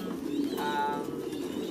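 Pigeons cooing in a pen on an industrial pigeon farm, with overlapping throaty coos and calls forming a steady, moderately close chorus and no talk.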